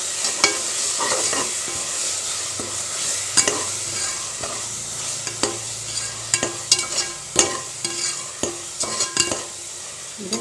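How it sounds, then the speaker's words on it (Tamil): Ginger garlic paste sautés in oil with tomato and shallot paste for Kuska, a low steady sizzle broken by repeated sharp scrapes and clinks of a stirring spoon against the pan. "இது நல்லா வதக்கலாம் எண்ணெய் விட்டு வர வரைக்கும்."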